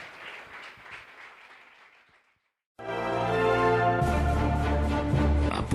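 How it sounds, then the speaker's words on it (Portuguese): Church congregation applause during a worship service, a short burst of dense clapping that starts after a moment of near silence and builds into a loud, sustained wash, with music rising underneath toward the end. "Pode dar ao Senhor sua melhor salva de palmas"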